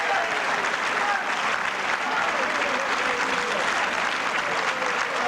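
Crowd at a 14.1 straight pool billiards championship final gives sustained, even applause, a dense continuous clapping that holds steady throughout.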